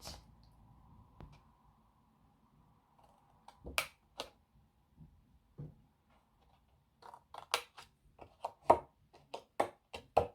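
Scissors snip through card while a stamp card box is being made, with sparse quiet cuts early and then a quick run of sharp, close snips near the end.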